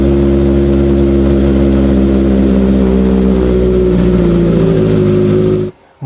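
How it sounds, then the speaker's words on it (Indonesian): Kawasaki ZX25R 250 cc inline-four fitted with a Yoshimura exhaust, revving loudly and close by with a steady, layered high-pitched engine note that holds for several seconds before cutting off abruptly near the end. "sound mesin 4 silinder segaris yang perkiraan saya menggunakan fairing order 180 derajat itu"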